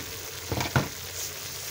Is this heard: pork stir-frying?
yes